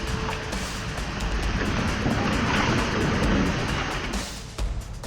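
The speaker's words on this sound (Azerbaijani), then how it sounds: "İri dalğalar qapıları zorla açaraq içəri dolur." Large waves six metres high crash through the doors of a seaside restaurant, a loud sustained roar of rushing, churning water that swells and then eases near the end.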